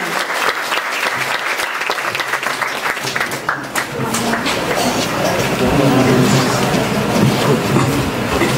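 Sustained crowd applause for the crowned queen at a school's 63rd anniversary celebration, loud dense clapping that swells and continues throughout.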